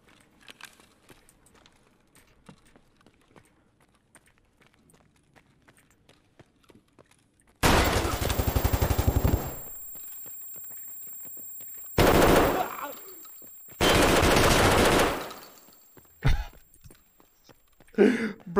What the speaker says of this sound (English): Bro, shotgun's fucking cranked!